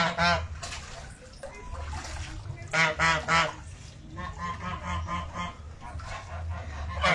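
A flock of geese at a small municipal zoo cooling off in a pool honk loudly and close in repeated overlapping bursts, some calls coming in quick clusters over a steady outdoor background.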